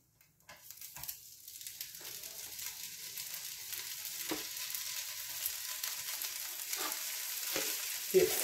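Vegan bacon frying on a hot plate, a steady close crackling sizzle that starts after a moment and holds through, with a few light clicks and no talk.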